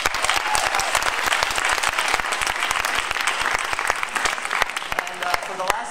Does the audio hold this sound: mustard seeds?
no